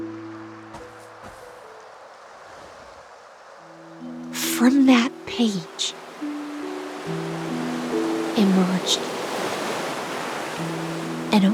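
Ocean waves in the Honkai Star Rail video game: a soft, steady wash of surf that swells midway, with game music tones layered over it and a voice speaking briefly.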